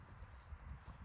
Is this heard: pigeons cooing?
no